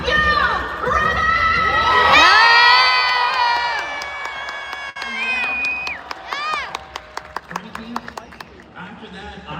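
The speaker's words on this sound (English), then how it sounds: "you already heard this crowd roar" A large crowd at a live Pro-Am event roars and cheers loudly with whoops and children shouting, swelling early and staying dense, while scattered sharp claps and shouts continue toward the end.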